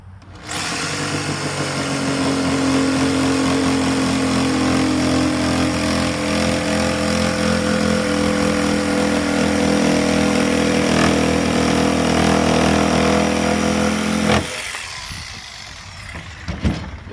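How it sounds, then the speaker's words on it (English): Jigsaw making an angled cut into a wooden charcuterie board, a loud, close, continuous motor whine with cutting rasp that holds steady for about fourteen seconds and then stops, followed by faint handling noises. "I'm just going to go ahead and angle the jigsaw."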